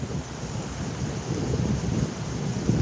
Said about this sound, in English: It's a nice and breezy today.